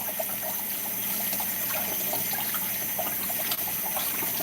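Potatoes scrubbed under a running kitchen tap, a steady close gush of water with light irregular rubbing and splashing, no talking.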